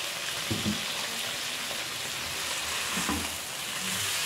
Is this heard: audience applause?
no